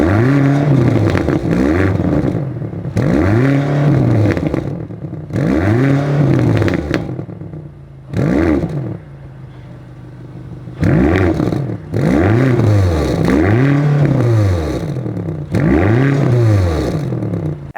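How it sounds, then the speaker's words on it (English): A BMW XM's twin-turbo V8 revs hard repeatedly through its active exhaust, the note rising and falling in loud bursts with crackles between, close by and without talk. "BMW, of course, gives this an active exhaust system."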